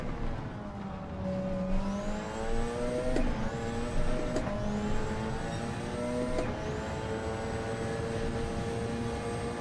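A GR3 race car engine in a racing game drones loudly and steadily, rising in pitch through the gears with sharp shift cuts about every second or two, close and unbroken.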